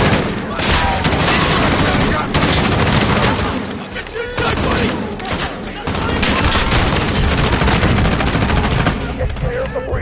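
Dense, continuous video-game gunfire from a squad in a shooter, rapid automatic bursts and shots layered loudly with heavy booms throughout, with voices talking underneath.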